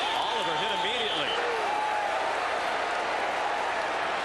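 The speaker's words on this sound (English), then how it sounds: "The crowd roared about the hit." Stadium crowd at a 1990 Texas A&M at Hawaii college football game roars after a hard hit, a loud sustained wash of cheering heard with a broadcast voice speaking over it early on.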